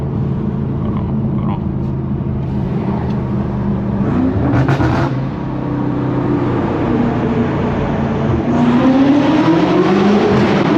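A BMW F90 M5 Competition accelerates hard from inside the cabin, its engine roaring in a loud continuous rumble that climbs in pitch toward the end.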